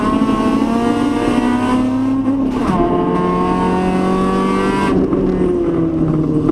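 A BMW E30 race car's engine drones and revs loudly during a three-hour endurance race, with pitch shifts as it shifts gears and other cars sound close by.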